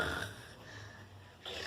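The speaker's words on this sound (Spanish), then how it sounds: "Ronquido." A sleeping dog snoring in a children's story, one soft rasping snore that fades, followed by quiet breathing, faint and close.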